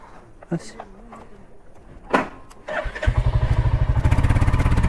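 A Royal Enfield Hunter 350 motorcycle starts up nearby after a few clicks and a voice, then settles into a loud, steady single-cylinder idle with a rhythmic thumping pulse.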